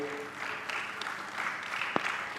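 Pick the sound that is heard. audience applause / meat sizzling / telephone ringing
audience applause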